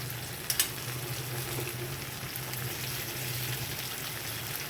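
A spoonful of ghee goes into a nearly dry parwal and cashew curry, setting off a steady, even sizzle, with a couple of sharp utensil taps near the start and no voices.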